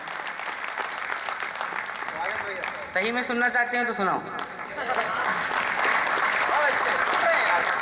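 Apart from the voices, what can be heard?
audience applause at a poetry recital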